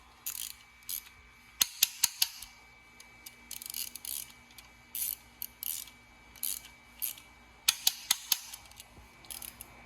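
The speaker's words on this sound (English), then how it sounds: "We're going to tighten these down 10 Newton meters." Ratchet wrench tightening timing kit bolts to 10 Newton meters on a B6/B7 Audi S4 engine, repeated close clicking bursts of the pawl with sharp snaps between strokes, quiet workshop background and no talking.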